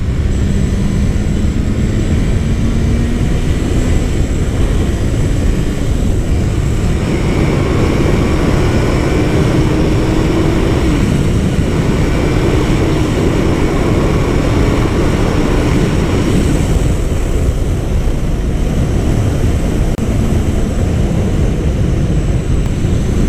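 Honda CBR650F motorcycle accelerating, a loud, constant roar heavy with wind rush, sustained from start to end with a rising engine tone and no talking.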